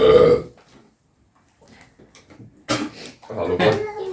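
Loud throaty burps come after chugging a 2 litre fizzy drink, with a strong belch at the start and more eructations and gulping sounds later, separated by near silence and close to the mic.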